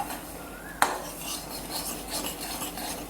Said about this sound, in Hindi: अब ये रवा भूनने को आ गया है